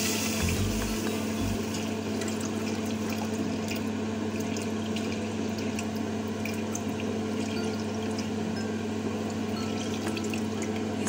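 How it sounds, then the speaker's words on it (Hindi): Milk pouring into a cooking pot set on a stove while making coconut hot chocolate, a steady continuous liquid stream with a low hum underneath, unbroken for the whole stretch. "पतीली हमने चूल्हे के ऊपर रख दी है और अब हम सबसे पहले इसमें मिल्क डाल लेंगे"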